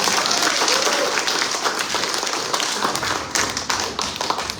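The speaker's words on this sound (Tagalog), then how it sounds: "Bigyan natin ng malakas na palakpak ang Panginoon mga kapatid." A church congregation applauds together with loud, dense clapping that holds steady for several seconds, with some voices mixed into the crowd.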